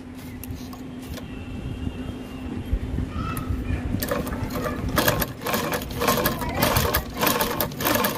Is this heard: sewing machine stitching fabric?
yes